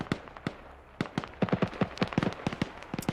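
Gunfire in the Arma 3 video game, as a BTR armored vehicle fires at a helicopter: a rapid irregular series of sharp cracks and bursts, some clustered, moderately close and free of talk.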